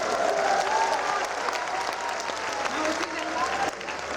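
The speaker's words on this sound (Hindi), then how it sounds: "एक बार जोरदार तालियां बजाओ।" Crowd at a Hindi humorous poetry recital (kavi sammelan) giving a hearty round of applause, dense even clapping that carries on for a few seconds with murmuring voices underneath.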